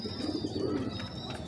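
Teddy big breeder pigeons coo close by in a low, throaty rolling rhythm, with faint higher chirps over the top.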